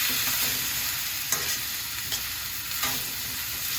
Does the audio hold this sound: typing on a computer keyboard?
no